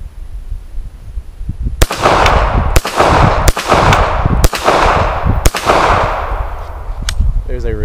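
A Stallard Arms JS 9mm pistol fires six loud, sharp shots at roughly one-second intervals, each crack followed by a ringing decay, with the last shot ending in a metallic rattle.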